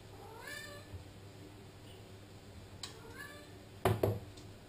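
A house cat meows several times indoors, a couple of clear rising calls early on and more later, followed by two louder knocking thumps near the end, with no talking.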